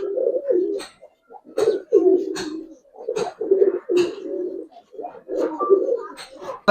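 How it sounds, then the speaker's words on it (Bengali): A young Giasulli pigeon cooing in close, repeated throaty phrases with short gaps between them, loud and alone. "নটটার ডাকটা অনেক সুন্দর"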